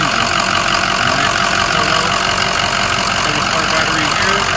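A 2006 Ford F-350 with a V8 turbo diesel idles loudly and steadily up close, producing a dense, continuous clattering rumble with no breaks.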